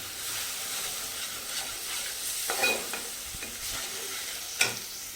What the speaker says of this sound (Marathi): हे दही मसाला सगळा घातलेला आहे, ते घालून चांगलं परतून घ्यायचं आहे.